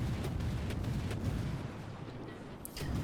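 Rapid salvos from the guns of the USS Black, a Fletcher-class tier 8 destroyer in a naval video game, boom in a dense, continuous rumble with frequent overlapping shots and no pause.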